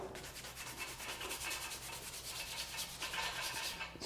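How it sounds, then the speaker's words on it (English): A hard plastic nylon brush scrubs chalk out of the knurling on a steel barbell, giving a steady, close, rhythmic scratchy rubbing with quick back-and-forth strokes. "Grab something like a nylon brush,"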